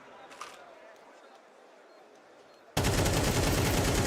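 MP9 submachine gun fire in Counter-Strike: a quiet stretch with a faint pop, then a sudden loud, continuous burst of rapid automatic shots that lasts to the end.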